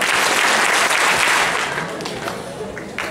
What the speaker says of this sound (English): And your 5 big claps for Spencer.